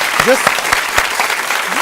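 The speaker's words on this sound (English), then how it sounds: "That's a clap." An audience claps steadily for a couple of seconds, a dense patter of applause with a voice speaking briefly over it.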